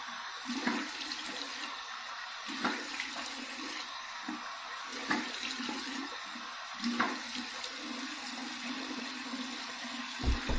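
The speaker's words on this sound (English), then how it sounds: "Here's my cold water rinse to close my pores." Cold tap water runs steadily into a bathroom sink for a face rinse after shaving, a continuous splashing flow with a few louder bursts.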